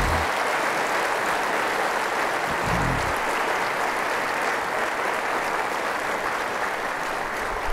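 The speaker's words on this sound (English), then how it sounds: "How about a hand of applause?" An audience at a Navy Postgraduate School gathering applauding steadily, a dense, sustained wash of clapping from many hands that continues at an even level throughout.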